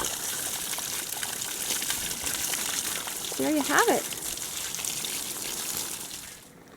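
Water rushes and trickles as it drains from a reclaimed-wood veggie washing table, a steady outdoor gushing flow that fades near the end, with a person speaking briefly over it.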